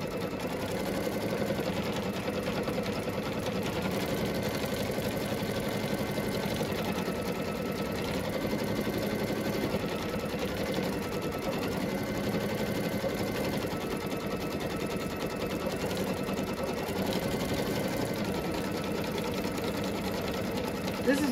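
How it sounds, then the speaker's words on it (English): An embroidery machine stitches an OESD shaped mug rug design with a fast, steady mechanical whir and hum that runs unbroken throughout, close and fairly loud. "And then when that finishes sewing"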